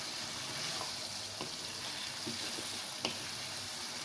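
Chopped onion and two medium capsicums fry in a pan over high flame, giving a steady close sizzle throughout with a few soft clicks of stirring and no voices.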